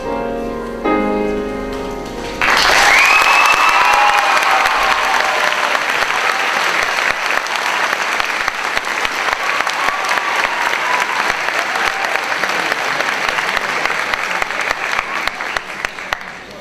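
A school auditorium crowd at a class day ceremony breaks into loud, sustained applause that starts abruptly after a short stretch of music and keeps going steadily to the end.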